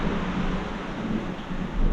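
Rain falls steadily at a countryside home on a rainy evening, a continuous broad rushing wash with a low rumble underneath that suggests distant thunder.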